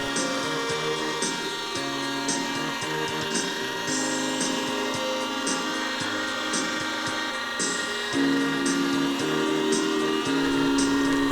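A restored vintage Hirobo nitro model helicopter flies with a steady, loud, high buzzing engine whine that holds throughout, its pitch wavering and stepping up and down as the throttle shifts.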